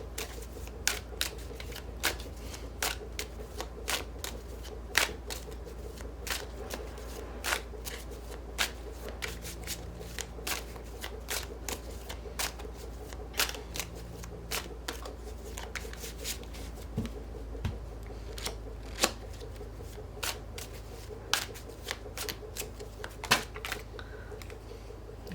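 Oracle cards are shuffled by hand in a quiet room, giving a long run of crisp, irregular riffling clicks and snaps over a low steady hum, with no talking.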